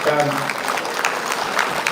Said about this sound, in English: Big round of applause for our eminent